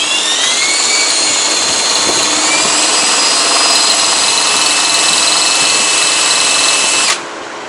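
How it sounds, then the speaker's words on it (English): A power drill whines steadily at high pitch while boring into metal during kingpin replacement on a Kenworth T680 truck, loud and close, then abruptly stops near the end. "I take a drill bit and I just kind of drill them out a little bit."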